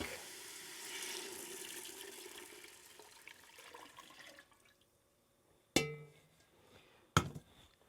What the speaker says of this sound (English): And then in goes the stock.